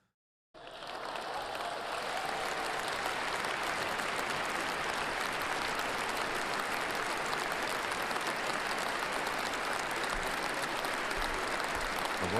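A large crowd at Trump's presidential inauguration breaks into applause that starts abruptly and holds as a dense, steady wash of clapping for the rest of the clip, with no talk over it.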